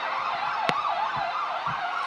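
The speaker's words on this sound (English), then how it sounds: "We've heard an ambulance, we heard a policeman, and that's apparently brandweer." A Belgian fire brigade siren wails continuously with a rising and falling tone, loud and steady over faint street traffic.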